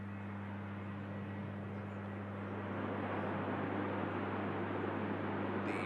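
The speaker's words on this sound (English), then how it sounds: "But in shot is this Ryanair greasing it down onto 2-3 right." A Ryanair airliner touching down on runway 23 right, heard as a faint, distant, steady rumble of engine noise that swells slightly in the second half.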